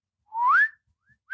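A voice whistles an imitation of an arrow flying, like a swanny whistle: a single rising, sliding tone, followed by a brief faint blip and the start of another whistled slide.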